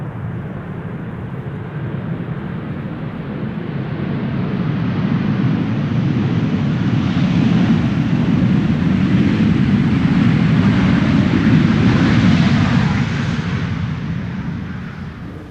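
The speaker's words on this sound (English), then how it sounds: "And in the meantime, Tarom is arriving from Bucharest." A Tarom Boeing 737-800 airliner arrives at Amsterdam Schiphol in showery winter weather, a loud broad jet roar that swells over several seconds as it passes close, then slowly fades.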